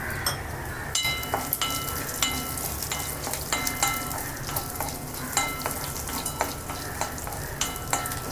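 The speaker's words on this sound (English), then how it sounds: "Roast it for a minute." Tamarind, coconut and green chili roast in a pan for banana stem chutney, a steady sizzle broken by frequent sharp scrapes and clacks as a spatula stirs.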